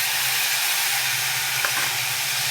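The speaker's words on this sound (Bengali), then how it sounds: "ভালো করে তেলে ভেজে নেবো একটু।" Vegetables frying in oil, with yardlong beans and pumpkin named for the dish, a steady, loud, close hiss of sizzling that stays constant throughout with no talk.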